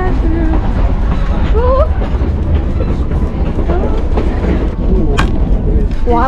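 A train rumbles steadily along the rails with a dense low roar, faint squeals and clatter, and distant voices murmuring in the background.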